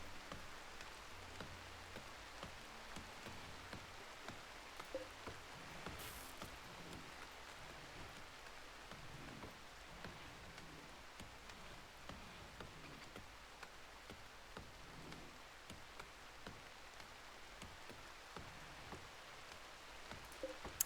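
Rain in the video game RimWorld falls as a steady, faint hiss of drops, even and continuous throughout with no voices.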